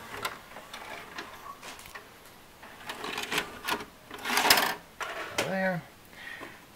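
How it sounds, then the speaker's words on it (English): An Emerson EWV404 VCR ejects a tape, giving a run of close mechanical clicks and whirring, with a short motor whine near the end and no voices. "We'll stop and eject."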